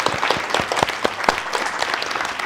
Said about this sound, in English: and yes, an applause